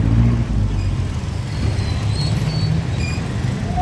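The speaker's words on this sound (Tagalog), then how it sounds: "Grabe sa traffic." Busy road traffic in Zamboanga City, Philippines, heard while walking along the road: a steady, loud low rumble of passing cars and other vehicles, with faint higher tones drifting over the engine noise throughout.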